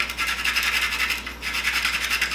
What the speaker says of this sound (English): So we're going to grate the beautiful nutmeg over the top.